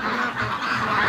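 Free-range ducks quacking and honking in a steady, overlapping stream, fairly close and loud, with no talk over them.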